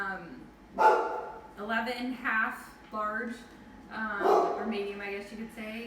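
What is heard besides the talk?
dog barking at a delivery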